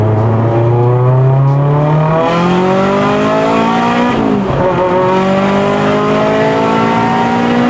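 A modified Mitsubishi Lancer Evolution VIII with turbo revs hard through rising gear pulls, loud and close, with a sharp shift and crackling pops near the middle before the engine climbs again.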